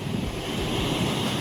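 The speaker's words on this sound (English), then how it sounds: "The Atlantic Ocean." Atlantic Ocean waves crash and wash near a coastal cave, a loud, continuous roar of surf with gusty wind buffeting the microphone and no voices.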